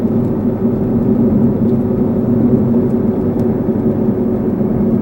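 A supercharged Toyota VVTi non-turbo engine with GTE rods and pistons, in an IS300 with an R154 swap, runs at a steady loud idle with a deep, even drone and no talk.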